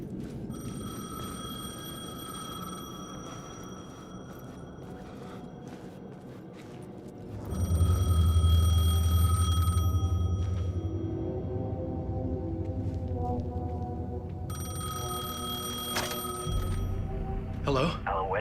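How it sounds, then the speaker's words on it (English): A payphone rings in Alan Wake 2, sounding in repeated bursts of bright, metallic bell tones separated by pauses, over a dark, rumbling ambient background that swells partway through. "The payphone was ringing."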